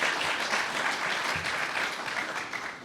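Steady, fairly distant applause from a symposium panel audience, sustained at an even level for the full stretch and tapering only slightly at the close.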